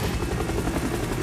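A helicopter in a video game shown at Ubisoft's E3 2016 conference gives a loud, dense rotor thumping with a rough, rattling texture, close and continuous throughout the short moment.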